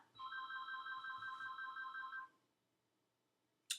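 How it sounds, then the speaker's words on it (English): A phone ringing with a steady electronic trill that repeats for about two seconds and then stops, followed by near silence and a brief click at the end. "I wish my phone would stop ringing"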